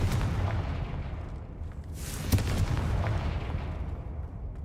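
Bombarda and Confringo spell blasts in Hogwarts Legacy, a deep rumbling boom that swells and rolls with a sharp burst near the middle, heavy and sustained with no talk.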